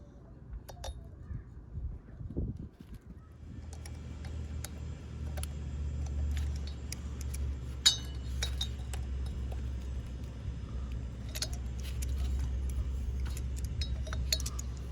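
Metal bolts from an OMC Cobra/Volvo Penta water pump being rebuilt clink and tick sporadically as they are handled, scattered sharp metallic taps over a low steady hum, close by.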